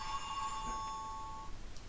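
A phone or bell rings with a bright, tonal electronic chime that holds for about a second and a half, fairly quiet and alone.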